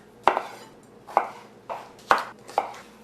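A knife chopping washed potatoes on a cutting board, five sharp, distinct strikes spaced roughly evenly, close and clear with quiet in between.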